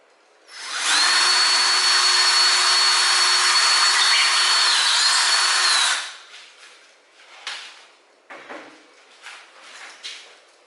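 A power drill with a large bit bores into plaster, a loud steady whine running for about five seconds before cutting off, followed by scattered quieter scraping and handling knocks.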